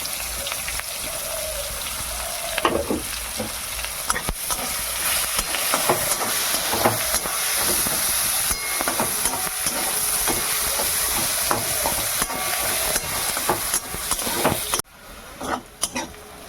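Onion sizzling in hot oil for a pumpkin and potato curry, a dense, continuous crackle with scattered spatula scrapes that drops away abruptly near the end.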